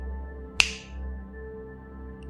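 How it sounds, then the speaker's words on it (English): A single sharp finger snap, close and crisp, standing alone in a quiet room during a guided hypnosis session, with a faint steady hum underneath. "snap my fingers"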